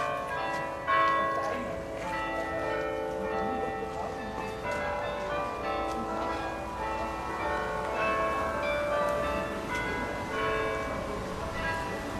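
Church bells ring continuously in overlapping peals at a moderate distance in Enkhuizen, North Holland, while a person talks over them.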